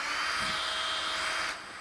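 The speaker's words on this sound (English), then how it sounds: "Hit your drill motor" A drill motor spins two zip ties inside a bag of wall texture in an EZ Pro texture spray gun setup, giving a steady high-pitched whirring drone for nearly two seconds before easing off slightly at the end.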